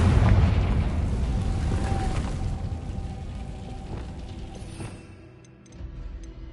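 A Confringo spell explodes in Hogwarts Legacy. A loud, close boom erupts at once and rolls off into a fading rumble, then brief quiet and a soft swell of ambience.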